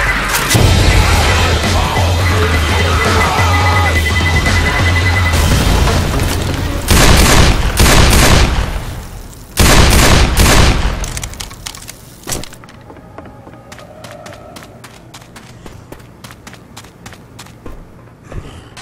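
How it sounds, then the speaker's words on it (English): A pipe bomb goes off in Left 4 Dead 2 on a Ravenholm map: loud booming blasts and sharp cracks in a dense burst mid-clip. Scattered debris clatter follows, fading to quieter in-game rattles. "Throw to pipe bomb."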